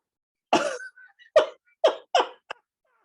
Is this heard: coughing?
yes